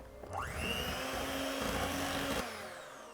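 An electric mixer beats a cottage cheese and egg mixture. It gives a loud, steady motor whine that rises as it spins up, holds for about two seconds, then cuts off.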